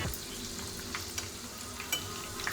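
Chicken fries on a medium flame, producing a low steady sizzle with occasional brief crackles. It is quiet and close, with no voices.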